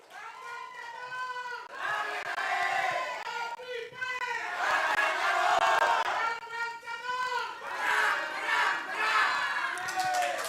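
Supporters of a candidate pair at a regional election debate shout and cheer together, a loud, sustained crowd roar rising and falling in waves with overlapping voices and chants.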